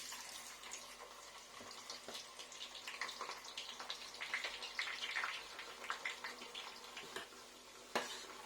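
Chopped onion dropped into very hot oil in a saucepan while cooking tubani, a northern Ghanaian dish, giving a steady close crackling sizzle with bursts of spitting and a sharp pop near the end.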